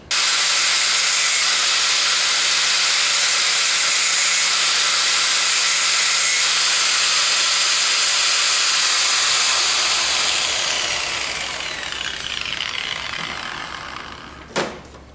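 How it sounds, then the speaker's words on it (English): An angle grinder whines steadily for around ten seconds while cutting the threads off a Land Rover choke cable, then the hiss fades over several seconds and ends with a short sharp clank. "So I'm going to do that with an angle grinder and try not to lose my fingers."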